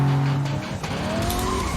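Car tires skid and squeal as a car drifts in the arcade racing game Cruis'n Blast, with a steady engine drone and a rising squeal running through the brief stretch.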